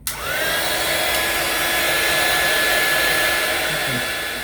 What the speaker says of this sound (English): Now I'm going to take my little heat gun and help this along just a little bit.